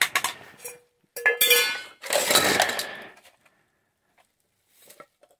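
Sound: metal pans and kettle being rummaged and clinked

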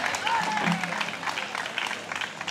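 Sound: applause for the festival speaker

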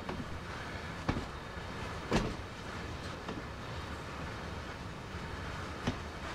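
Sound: train moving hopper railcars in Train Sim World video game

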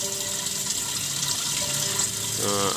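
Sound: pouring water into a clay pitcher

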